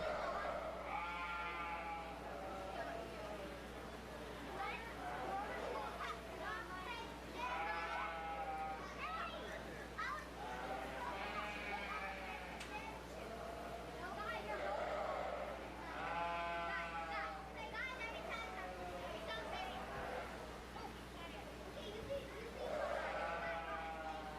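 Sheep bleat repeatedly at a 4-H fair sheep show, their calls rising over a steady crowd murmur and children's voices throughout, with people talking nearby.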